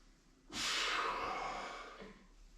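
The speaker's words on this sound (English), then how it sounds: "Louder exhale through your mouth." A single loud, breathy exhale through the open mouth during yoga breathing starts abruptly after a quiet moment, then fades slowly over about two seconds.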